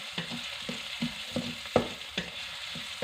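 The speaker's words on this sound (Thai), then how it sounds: "ก็นำกุนเชียงลงทอดพร้อมกับ กระเทียมนะคะ ทอดไปด้วยกันค่ะ" Chinese sausage and garlic frying together in a pan for fried rice, a soft close sizzle broken by regular spatula scrapes and taps every half second or so, no talking.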